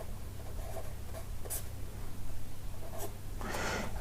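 Someone writes words by hand, a soft scratching of pen or chalk in a few brief strokes over steady background hiss.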